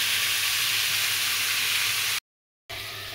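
Boiled cauliflower and potato frying and being stirred in a pan with five-spice seeds, a steady close hiss of sizzling oil broken by a brief dead gap before resuming.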